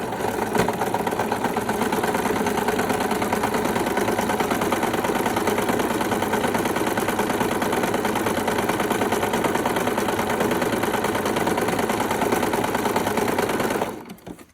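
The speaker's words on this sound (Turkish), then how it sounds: "Bakın zikzak dikiş." A home sewing machine running a zigzag stitch while making a makeup bag, a loud, steady close mechanical whir that stops abruptly at the end.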